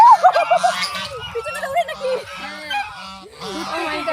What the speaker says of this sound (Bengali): এই দেখুন এখানে রাজহাঁস আছে, রাজহাঁস